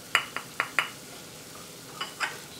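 A few sharp clinks and taps from a pan as spices, celery and onion are stirred and sautéed for a Hatch chili BBQ sauce, scattered bursts over a quiet background.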